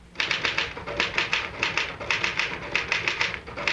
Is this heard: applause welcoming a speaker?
no